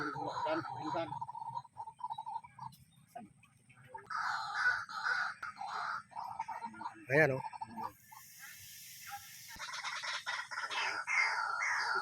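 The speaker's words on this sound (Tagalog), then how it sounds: "tumutunog yung mga ibon" Birds call repeatedly in loud, harsh, cawing bursts over a rice field, with a person murmuring briefly between the calls.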